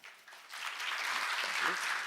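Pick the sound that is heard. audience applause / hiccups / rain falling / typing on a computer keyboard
audience applause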